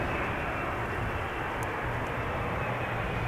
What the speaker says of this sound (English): Embraer 175 arriving from Frankfurt.